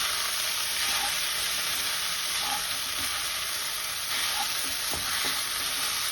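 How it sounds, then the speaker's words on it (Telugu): A steady loud sizzle fills a hot pan of tempering for semiya pulihara while a utensil stirs and scrapes now and then, close and continuous with no talking. "సిమ్లో పెట్టుకుని బాగా అడిగి పైకి ఈ పోపు అంతా కలిసేటట్టు కలుపుకోవాలి"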